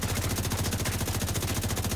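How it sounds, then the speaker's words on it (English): Light machine gun fire in the video game The Division 2, an unbroken rapid stream of shots at an even rhythm, loud and dense throughout the short burst. "That's LMG."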